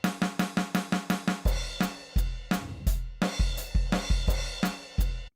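Sampled electronic drums in a recording project play a fast run of even hits, then a groove of kick, snare and crash cymbal hits, with no talk.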